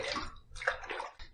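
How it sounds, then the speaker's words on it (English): A brief splash and slosh of running water as a razor and face are rinsed mid-shave with sandalwood soap lather, close and fairly quiet, with no speech. "I'm going to rinse."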